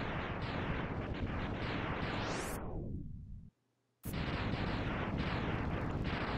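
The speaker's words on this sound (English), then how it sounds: "Sigma's fortress is destroyed" Sigma's fortress explodes in Mega Man X: a loud, continuous roaring blast with a rising whoosh. It cuts to a brief silence near the middle, then another sustained explosion roar follows.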